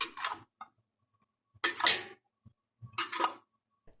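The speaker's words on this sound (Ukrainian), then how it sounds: "І накриваємо стерилізованими кришками." Sterilized metal lids set onto glass jars of pickled pattypan squash: three short, bright metallic clinks with faint taps between, close up in a quiet kitchen.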